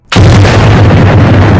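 A loud, sudden nuclear bomb explosion sound effect hits with a sharp onset, then a sustained booming roar with heavy low rumble that holds to the end.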